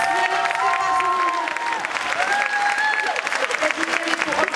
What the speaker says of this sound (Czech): váš obrovský potlesk patří těmto všem skvělým stefařům